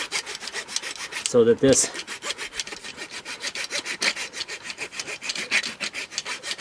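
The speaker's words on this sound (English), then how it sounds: "this gets rolled forward so I can get the back of this with my rasp" A rasp works over a piece of wood in fast, even strokes, a loud close scraping rhythm that keeps going throughout, broken once by a short spoken phrase.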